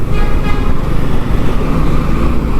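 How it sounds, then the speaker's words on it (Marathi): Loud, continuous roar of heavy highway traffic, deep engine rumble of lorries and trucks passing close by, with no voices. "सगळे लॉरी ट्रक्स निघालेत"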